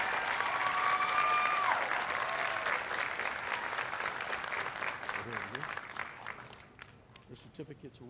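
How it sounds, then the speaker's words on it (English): Audience applause for graduates at a 2023 commencement ceremony, a dense, steady wash of clapping that fills the room and tapers off near the end while voices and cheers mix in. "So give yourselves a round of applause"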